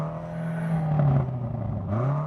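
A BMW M8 engine revs hard and bounces against its soft limiter, a loud, close, sustained drone that wavers and surges rather than cutting sharply, then drops and climbs again near the end.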